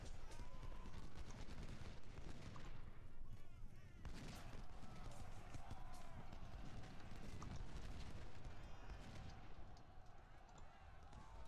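Cavalry horses charge in a Civil War strategy video game, a dense, continuous rumble of galloping hooves mixed with crackling gunfire and battle noise, steady and busy throughout.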